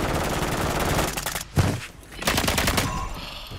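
Rapid bursts of automatic gunfire from a battle royale video game, loud and close, with a brief pause and a single sharp shot before the firing resumes in dense volleys.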